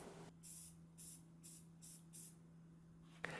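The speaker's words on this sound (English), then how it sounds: "just rattle can spray paint" A rattle can of satin black spray paint hisses in five short, even bursts close to the microphone, followed by a quiet pause and a faint click.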